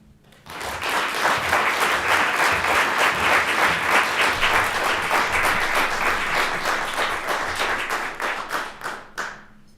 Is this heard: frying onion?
no